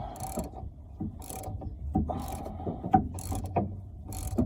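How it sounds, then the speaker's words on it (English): A ratchet working on twenty-year-old rear strut bolts of a Mitsubishi Eclipse, repeated quick clicking bursts at a steady rhythm, close and fairly quiet, with faint mechanical clanks between strokes. "We're trying to remove these 20-year-old bolts."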